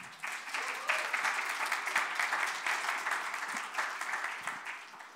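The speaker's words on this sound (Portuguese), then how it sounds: "uma salva de palmas para todo mundo." An audience at a Senior Tech industry talk breaks into steady clapping, a dense wash of many hands applauding continuously at moderate distance.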